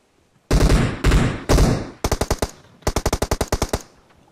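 Gunfire in the mobile game PUBG Mobile: three loud single shots, then two rapid automatic bursts of sharp, evenly spaced cracks, close and dominant with no talking.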